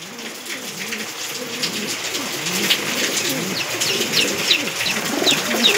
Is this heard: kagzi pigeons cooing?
yes